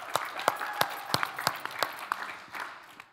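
Applause breaks out at a Denver Startup Week gathering, with one nearby pair of hands clapping in a sharp, evenly spaced rhythm over a softer crowd.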